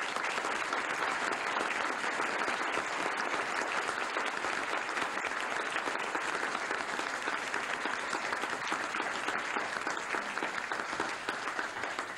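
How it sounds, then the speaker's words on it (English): Sustained applause from a university audience during Cardinal Karol Wojtyla's 1969 visit to Stevens Point, Wisconsin: dense, even clapping from many hands filling the whole stretch at a steady level. "Dr. Vaclav Soroka and Olenka, would you give them a round of applause, please, at this time for their fine work?"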